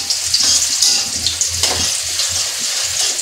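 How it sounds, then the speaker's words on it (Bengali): Chopped onion and garlic fry in hot oil in a pan, a loud, bright, continuous sizzle with small crackles and stirring shifts throughout. "পেঁয়াজ কুচি আর রসুন কুচি দিয়ে দিলাম।"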